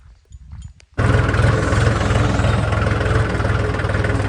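A tractor engine idles loud and close with a steady low rumble after a brief burst of quieter sounds.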